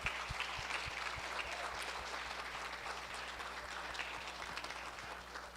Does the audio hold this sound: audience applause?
yes